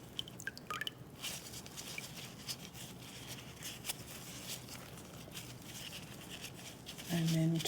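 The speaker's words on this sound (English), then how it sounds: "I've got a tub of water, so the idea is to wet them" Cloth and fabric scraps soaked in a tub of water before indigo dyeing: close, soft wet squishing with scattered drips and trickles, quiet throughout, and a faint voice at moments.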